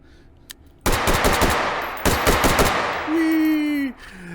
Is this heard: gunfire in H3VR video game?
yes